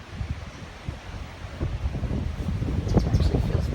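Strong wind from Hurricane Matthew gusts steadily against the microphone, a continuous rough roar with rustling that builds slightly toward the end, with no voices.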